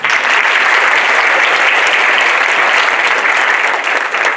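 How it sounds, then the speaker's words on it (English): Audience at a fashion-themed presentation applauding, dense steady clapping that fills the whole stretch, loud and close, with no voices over it. "Would you please give them an applause too?"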